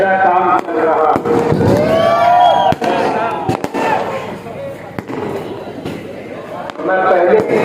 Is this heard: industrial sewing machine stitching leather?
no